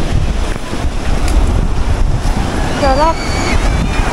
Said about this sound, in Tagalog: Ah, lakas ng hangin.